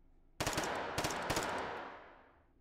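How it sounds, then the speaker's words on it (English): Loud bursts of rapid machine gun fire in the Hot Dogs, Horseshoes & Hand Grenades VR game, a sudden close volley of sharp cracks followed by a few more bursts and a long, fading reverberant tail. "I can't hear over the immensely loud gunfire."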